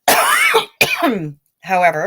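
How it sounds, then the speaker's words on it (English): A person coughs and clears their throat in two short harsh bursts close to the mic, followed by a brief spoken word. "after I cough and take a sip"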